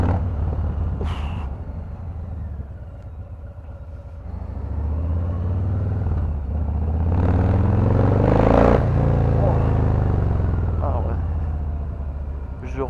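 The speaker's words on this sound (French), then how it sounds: "Je reconnais là l'accélération de la FXDR et la Fat Bob." Harley-Davidson FXDR and Fat Bob motorcycles accelerating on the road, a loud low engine rumble that builds and swells in the middle then eases off, with wind noise and brief talk mixed in.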